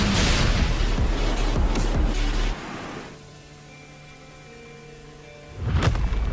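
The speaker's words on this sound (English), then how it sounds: "What caused the explosion?" An explosion in the Wuthering Waves video game sets off a loud rumbling blast. The sound drops to a quiet tonal hum, then a second sharp burst follows near the end.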